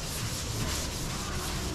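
Steady close rubbing of sandpaper over a primed panel on a 1998 Chevrolet Corsa, a continuous even scratchy hiss that runs unbroken for the whole short stretch, with no voices.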